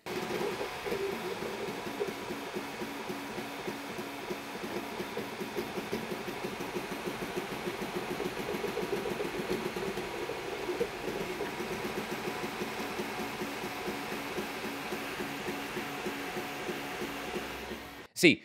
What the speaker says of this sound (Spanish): cuando le metemos mucha caña a la impresora, hace un ruido del demonio